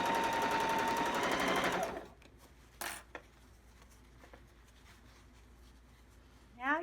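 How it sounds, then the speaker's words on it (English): A sewing machine stitches the seam of a wet bag in a fast steady whirring run for about two seconds, then stops, leaving quiet handling clicks and a short rattle near the end. "Now you can backstitch here."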